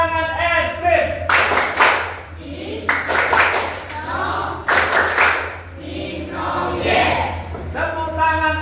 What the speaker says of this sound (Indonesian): Tepuk tangan es krim.